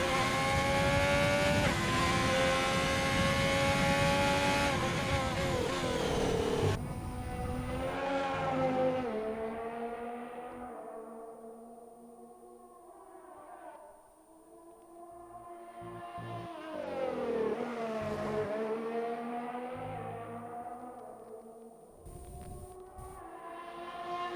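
A race car in an online racing video game roars through a lap, its engine rising and falling in pitch as it accelerates and downshifts through corners. The sound is loud, continuous and close, with no talking.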